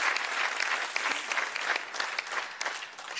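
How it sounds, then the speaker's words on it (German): Enthusiastic applause from a studio audience on The Masked Singer Switzerland, dense clapping sustained throughout, loud and close with no voices standing out. "Ein Applaus"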